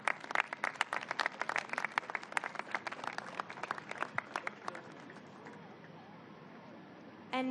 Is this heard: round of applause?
yes